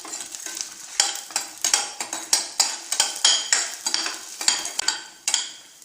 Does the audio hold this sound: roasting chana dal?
yes